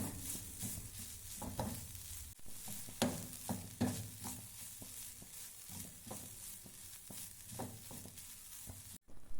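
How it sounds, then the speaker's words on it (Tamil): Grated coconut roasting in oil left from frying dried turkey berries, for a brinjal vathakuzhambu: a soft steady sizzle with repeated stirring scrapes at an uneven rhythm, close and moderately quiet, with no voices. "சுண்டக்காய் வற்றல் வறுத்த எண்ணெயிலே நம்ம அந்த தேங்காயையும் போட்டு வறுத்துக்கிடலாம்"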